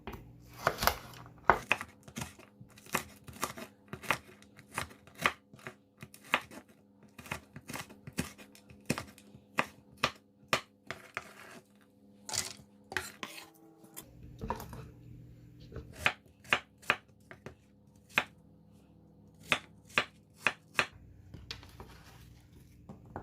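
A knife chops through hard, frozen ingredients for water kimchi on a cutting board, sharp irregular thuds and cracks repeating close by, with brief pauses and faint rustling between runs.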